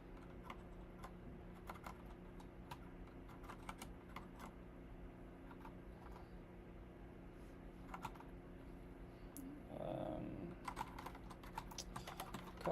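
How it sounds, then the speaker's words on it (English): Someone types on a new computer keyboard, with quiet, irregular key clicks in uneven bursts over a faint steady hum and a brief low murmur partway through. "I'm trying to learn a new keyboard that's actively trying to fight me"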